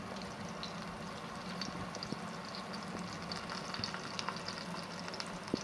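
Breaded meat sautéing in oil in a pan gives a steady, close, moderate frying sizzle with soft crackles and pops throughout, and no voices.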